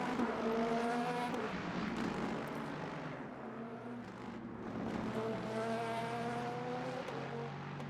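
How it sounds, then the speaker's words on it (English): Engine of an LMP2 prototype race car in a racing video game, a loud sustained high-pitched whine with rising gear-change sweeps, dipping briefly midway before climbing again as the car closes in from behind. "I can hear the LMP2 behind."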